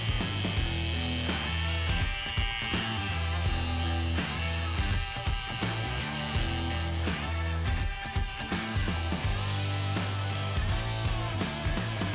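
A Hummingbird BRONC wireless tattoo machine runs close up with a steady electric buzz and rapid mechanical vibration, holding an even level throughout with no talking.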